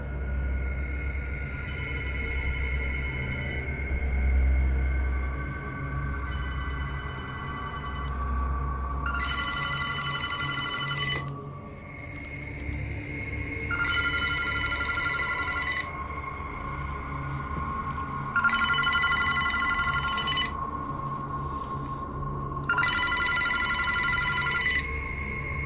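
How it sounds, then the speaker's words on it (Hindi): An old, rusty telephone rings in repeated bursts of harsh metallic bell tones separated by pauses, loud and fairly close over a low hum in an abandoned building. "एक पुराना जंग लगा हुआ फ़ोन बज रहा होता है"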